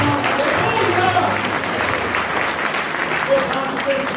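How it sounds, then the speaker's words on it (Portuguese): A church congregation applauds during a Portuguese-language service, loud continuous clapping from many people close by, with a voice faintly mixed in beneath it. "Você pode aplaudir o Senhor com linda saúde."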